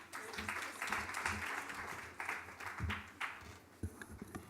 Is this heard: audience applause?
yes